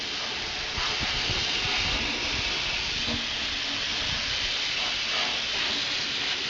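A $100 air spray gun hisses loudly and continuously while spraying Fluid Film onto a truck, a dense, close rush of air that holds steady throughout.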